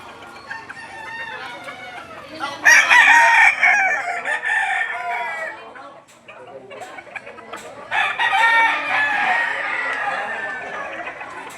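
Boston Roundhead chickens at a farm in Lipa City, Batangas: roosters crow loudly in two long bursts, with clucking in between and low talk in the background.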